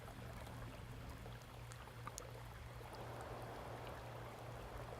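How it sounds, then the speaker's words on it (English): A running water sound effect gives a soft, continuous rushing and trickling wash, faint and steady throughout with no voices. "You could turn on the water, but it doesn't feel real because you need a little wind sound"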